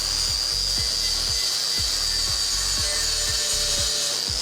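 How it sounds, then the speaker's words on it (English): Wire wheel on a power tool scrubbing rust off an engine oil pan from a Volkswagen Golf Mk2: a steady, close, harsh whirring grind with rhythmic scraping pulses as the wheel works the metal, no talking. "So since I have the oil pan off, I want to clean it up more and paint it, get rid of the rust and stuff. So let's wire wheel it."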